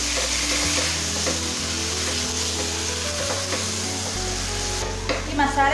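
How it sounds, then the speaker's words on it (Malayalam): Chicken masala with curry leaves being stirred in a pan in a Kerala-style kitchen: sizzling frying under repeated scraping and stirring strokes of a utensil, close up with a steady low hum beneath. "ഇതിലേക്ക് കുറച്ച് കറിവേപ്പില ചേർത്ത് നമുക്ക് ആദ്യം ഇതിനെ നന്നായിട്ടൊന്ന് മിക്സ് ചെയ്തെടുക്കാം."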